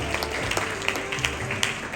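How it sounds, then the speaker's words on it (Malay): Applause from an audience of parents at a school closing ceremony, a steady wash of clapping with scattered sharper claps, moderately loud and sustained. "berikan tepukan gemuruh kepada ibu bapa yang hadir pada hari ini"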